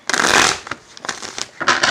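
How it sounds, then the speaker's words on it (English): Tarot cards being shuffled by hand during a reading, giving two dense bursts of papery riffling and crackle with a few softer flicks between them, close and moderately loud, with no talk. "Uh-oh, hold on. One more shuffle."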